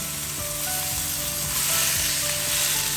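Chicken pieces sauté in a hot pan with a loud, dense, continuous sizzle and occasional stirring scrapes close by.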